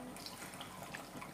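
A little water is poured into a curry pan of ground spice paste for an ash gourd and prawn curry, a brief soft trickling splash heard faintly and close.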